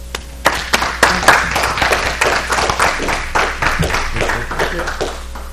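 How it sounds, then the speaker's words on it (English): Applause at a city planning and zoning commission meeting in Jefferson, Missouri: a small room of people clapping steadily for several seconds, moderately loud and close, with a low background hum. "I would like to applaud David for everything that he's done"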